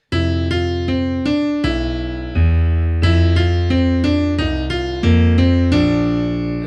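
Piano notes play a plain jazz melody in steady, evenly spaced quarter notes, each note struck cleanly with bass chords underneath.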